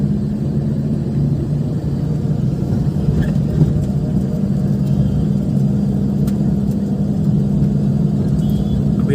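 A car engine hums steadily from inside the cabin during a driving lesson on a road, a constant low rumble with no breaks.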